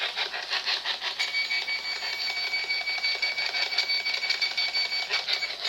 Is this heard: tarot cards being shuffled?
no